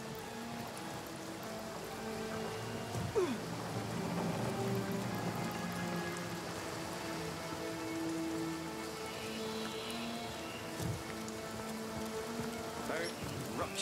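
Steady rain pours down in the fantasy role-playing game Divinity: Original Sin, a dense continuous patter with no break across the whole stretch, while faint game ambience and tones sit underneath.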